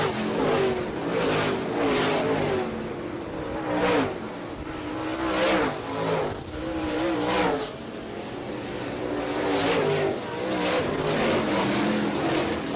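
A pack of modified race cars in a 50-lap feature roars past in waves, engines revving and fading in repeated passes, some tire squeal mixed into the loud, continuous racing noise.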